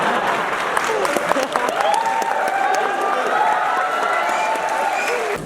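An audience at a political speech in Nepal claps loudly and continuously for several seconds, a dense, sustained round of applause from a large crowd with some voices mixed in.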